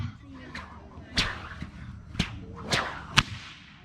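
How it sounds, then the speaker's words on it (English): A whip is cracked in a live performance trick, giving four or five sharp, loud snaps at roughly one-second intervals, each preceded by a soft swish, over a quiet background with faint voices. "Your reward, this whip cracking trick right here."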